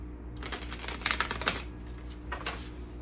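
A deck of oracle cards being shuffled gives soft, crackly riffling bursts, quiet and close, clustered in the middle with a brief flurry near the end.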